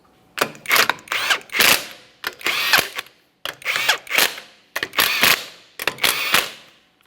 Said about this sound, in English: Start on all 5 of your 21mm lug nuts. Bottom them out.